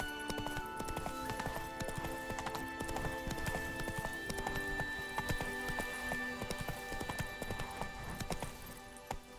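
Roach, the horse in The Witcher 3: Wild Hunt, galloping with rapid, rhythmic hoof clops, close and steady, occasional snorts and a whinny amid faint game music.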